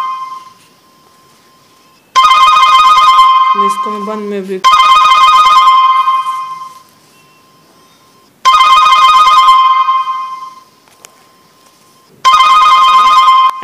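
A mobile phone being remotely located rings loudly in four long repeating bursts of bright electronic tone, with short pauses between them and a voice speaking briefly in one gap.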